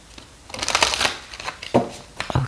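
Tarot cards shuffled by hand for a reading, a few quick riffling bursts of papery flutter with short pauses between them, close and fairly loud.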